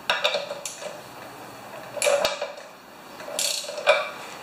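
A 1/2 inch ratchet wrench works on a 3.5 HP Homelite tiller, giving quiet clicking pawl bursts and metallic taps in a few short spells between pauses.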